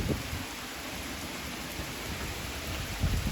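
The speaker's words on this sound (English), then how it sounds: "now the rain is really coming down." Heavy rain pours down steadily during a storm with strong winds, a dense, even hiss of downpour close by, with faint low rumbles near the start and end and no voices.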